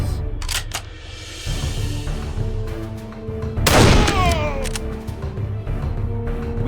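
Sharp gunshots and a heavy boom ring out in the Darkest of Days shooter game, with scattered shots early on, a loud blast in the middle, then sparse firing over ambient battle noise.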